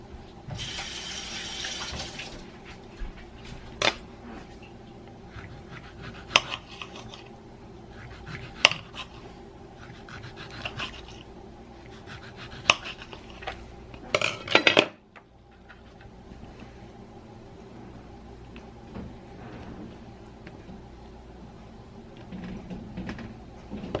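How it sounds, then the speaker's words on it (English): A knife slices a tomato against a board, making sparse, close thuds and taps every couple of seconds over faint kitchen background noise, with a brief rush of running water near the start. "So I'm just gonna cut this tomato."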